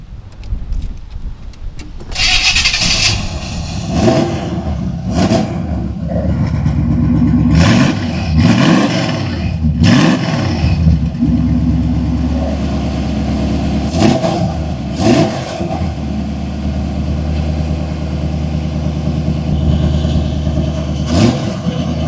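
A 1970 Camaro Rally Sport V8 rumbles loudly through open electric exhaust cutouts, revving up and down in several strong bursts before settling into a deep, throbbing idle.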